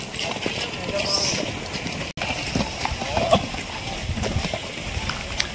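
Horse hooves clip-clop at a riding academy in Telangana where horses are trained for jumping, a steady walking rhythm running through the whole stretch against outdoor background noise and some voices.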